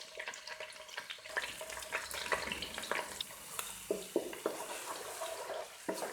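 Ginger garlic paste, about two tablespoons, frying in hot oil while being stirred, a steady crackling sizzle with scraping stir strokes and small clinks, fairly close and with no talking.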